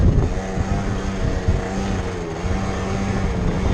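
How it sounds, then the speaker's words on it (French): A Peugeot Speedfight 3 AC 50cc scooter engine runs steadily after a restart, with a close, loud, buzzing two-stroke idle that holds even throughout and no talking over it. "Je vais essayer de le redémarrer. Attention. Ouais, vous voyez, c'est démarré au quart de tour."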